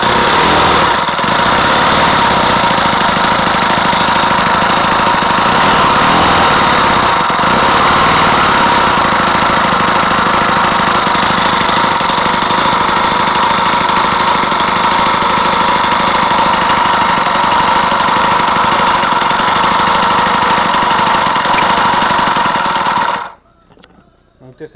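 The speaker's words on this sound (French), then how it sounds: "c'est pas un moteur qui tourne lentement" A homemade small four-stroke engine runs fast and loud at close range, a continuous buzzing, rattling drone that holds steady for most of the stretch before cutting out abruptly near the end.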